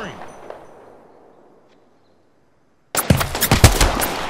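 Gunfire in Apex Legends arrives as a sudden loud burst of rapid shots after a fading echo and near silence, with sharp repeated cracks close by.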